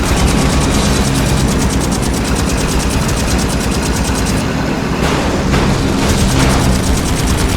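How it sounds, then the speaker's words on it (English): Airplanes approach in the video game The Saboteur, a loud, steady roaring drone that fills the scene, thick with rumble and mechanical rattle and briefly thinning near the end, with no talk. "Listen! I hear airplanes!"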